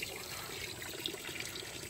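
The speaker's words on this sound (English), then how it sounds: "Immediately, I gotta put some water in the pond, because it looks like a lot of it's evaporated" Water pours steadily into a garden pond, a continuous close trickle and splash with no voices.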